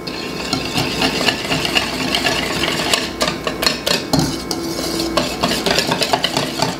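Spaetzle batter being beaten with flour in a bowl gives steady, rapid scraping and clinking of a utensil against the bowl, close and continuous with rhythmic knocks.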